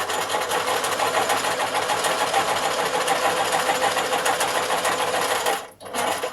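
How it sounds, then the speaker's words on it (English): A sewing machine stitches bunting fabric in a fast, even whirring run at close range, then stops briefly near the end before starting again. "you finish the line of sewing with a couple of stitches forward and back"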